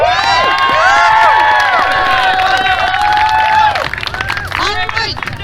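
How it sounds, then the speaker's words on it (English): A Renaissance fair crowd at the 2021 Maine Ren Faire cheers a sword fight with shouts, whoops and whistles, loud and close throughout, then settles into a lower babble. "Let's give him a big cheer."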